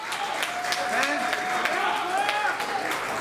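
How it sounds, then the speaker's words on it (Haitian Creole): Thin, scattered applause from an audience at a Haitian gathering, steady clapping lasting a few seconds with a faint tone and background voices mixed in. "Petit applaudissement"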